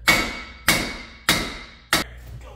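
Four loud, sharp hammer blows land at even intervals on a stuck part of a Subaru during a garage tune-up, each ringing out with a short metallic decay.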